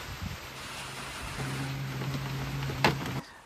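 Steady hiss of rain falling on a market, with a low hum running through most of it and a brief sharp knock near the end.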